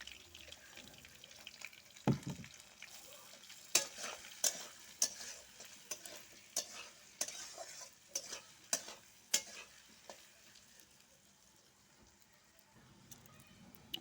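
Ginger fries in a pan with salt and turmeric, a soft hiss under repeated clacks and scrapes of a spoon stirring against metal, close and rhythmic before fading into a quiet simmer near the end.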